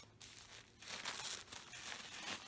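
Pink tissue paper wrapped around clothing items from a Nadine West subscription bag crinkles and rustles continuously up close as it is handled and unfolded.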